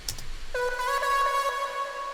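A synth chord treated with EQ, Camel Crusher distortion and reverb swells in after a short noisy intro and sustains, sitting somewhat back and washed in reverb for a dance-track remake.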